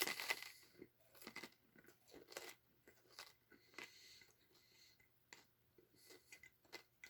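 Repeated dry crunches and bites from someone chewing tough WWII Red Army ration biscuits, close and fairly quiet, coming in irregular bursts with short pauses between them.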